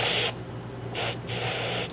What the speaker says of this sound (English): Let's put a little bit of spray in here